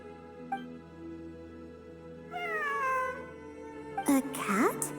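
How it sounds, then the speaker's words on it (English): Cat meowing inside the video game Genshin Impact, amid ruins during an exploration event: a couple of soft, drawn-out meows over a quiet ambient music bed, followed by a louder bright chime. "It really is a cat."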